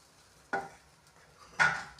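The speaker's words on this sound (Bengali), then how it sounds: "এক এক করে সব পিঠেগুলো ভেজে নিচ্ছি আমি" Chitoi pitha, rice-flour cakes, frying in a pan, heard as two short sizzling bursts about a second apart against a quiet background.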